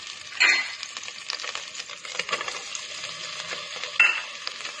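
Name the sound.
stirring chicken and tomato frying in a pan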